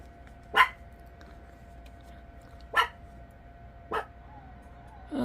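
A dog barks indoors in three single, well-spaced barks with a quiet gap between each, fairly close, with a faint steady hum in the background.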